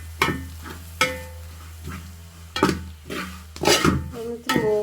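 Chili powder, turmeric, ground fennel and coriander powder fry with sautéed onions in a pan: a steady sizzle broken by repeated stirring scrapes and clinks every second or so, close up, with no talking.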